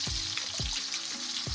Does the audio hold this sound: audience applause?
no